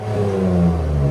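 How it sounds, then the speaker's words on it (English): A 2013 Acura TL with a 3.5L V6 fitted with a polished stainless steel Evil Energy muffler, revving in a short, loud, steady burst of exhaust drone with no speech. "replaced it with that beautiful, sexy Evil Energy stainless steel muffler, polished"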